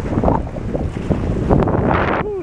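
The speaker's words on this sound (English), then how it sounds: "it's windy out here" Strong wind buffets the microphone outdoors, a steady roaring rumble with gusts, and water sloshing faintly underneath.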